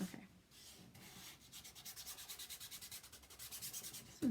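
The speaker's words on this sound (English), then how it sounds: "This one's been rubbed down plenty." A chalk paste transfer is rubbed down by hand in a quick, regular series of close scratchy strokes that speed up toward the end, with soft handling noises at the start and finish.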